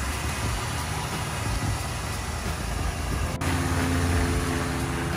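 Turbocharged Mazda 13B rotary engine, the same unit as in the RX-7 FD, idling in a roomy engine bay; a steady, close mechanical hum that grows slightly fuller and more droning partway through.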